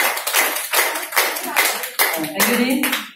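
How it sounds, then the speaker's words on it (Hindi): An audience claps for a customer at a therapy centre, several bursts of applause in a steady rhythm, close and fairly loud, with a voice speaking briefly near the end. "ताली बजा दीजिए।"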